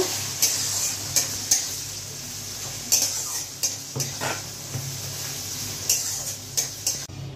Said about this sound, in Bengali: পেঁয়াজটা হালকা ভেজে নেব